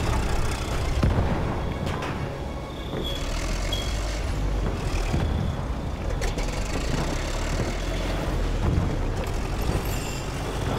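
Distant artillery barrage in the Battlefield 1 battlefield, a steady loud rumble of booms and blasts rolling continuously with no pause.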